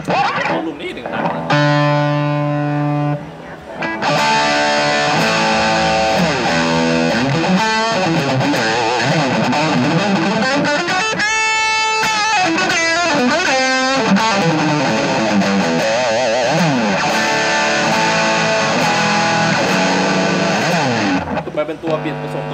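Loud, heavily distorted Squier Bullet Stratocaster electric guitar plays sustained chords and riffs almost continuously, with a brief drop in level near the start.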